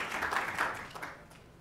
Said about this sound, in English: Definitely worth applauding.